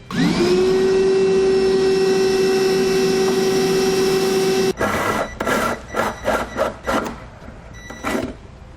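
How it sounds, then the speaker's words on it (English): A vacuum runs with a steady high whine while a hole saw cuts a hole for a taillight on a 2018 vehicle, then the vacuum stops and the saw grinds in several short bursts. "We'll use a hole saw in the size indicated in the instructions to make our hole. And as we're doing this, I'll use a vacuum"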